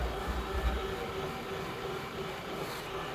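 Floor polishing machine with weighted diamond pads grinding a wet stone floor, giving a steady, continuous low drone and whir that stays even and moderately loud throughout.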